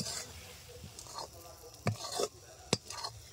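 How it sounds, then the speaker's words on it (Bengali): Semolina dry-roasts in a pan over medium heat while a spoon pushes it around, giving a few distinct gritty scrapes and knocks against the metal, spaced unevenly over a low background hiss. "আরো 2 থেকে 3 মিনিট মতো এরকম ভাবে নেড়ে নেব, আর একটু শুকনো শুকনো করে নেব"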